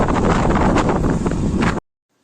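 Strong wind roaring and buffeting loudly against the microphone on a reservoir dam embankment, steady and close, then cutting off abruptly into silence.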